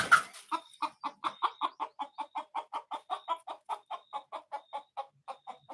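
A chicken clucks in a long, steady run of short repeated calls, close and fairly quiet, with nothing else heard.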